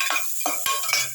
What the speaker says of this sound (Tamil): வெங்காயம் பச்சை மிளகாய் போட்டு நல்லா வதக்கணும்